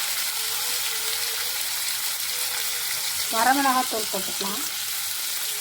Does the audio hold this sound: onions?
yes